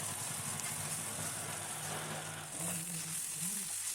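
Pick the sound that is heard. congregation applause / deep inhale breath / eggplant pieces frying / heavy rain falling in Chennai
eggplant pieces frying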